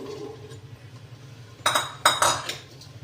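Green pigeon pea grains go into a pan of cooked gravy. After a quiet stretch come two sharp metallic clinks of a spoon against the pan, each followed by a brief rattling scrape.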